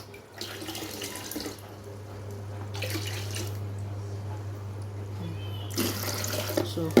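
Water runs steadily from a tap into a container while mixing a soda ash solution for homemade liquid soap, a continuous splashing stream with brief louder gushes and a low hum underneath.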